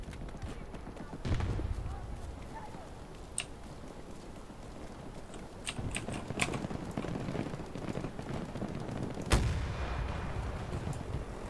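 Explosions and gunfire in the Battlefield video game, with sharp blasts scattered over a constant battle din, one loud close blast near the end, under steady talking.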